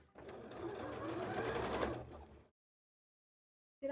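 A sewing machine runs steadily for about two seconds of free-motion embroidery stitching on tail frills, then stops, leaving silence until a brief sound at the end.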